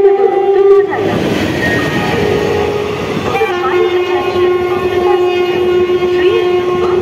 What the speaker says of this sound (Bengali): অনুগ্রহ করে শুনবেন 5 নম্বর প্ল্যাটফর্ম দিয়ে থ্রু ট্রেন যাবে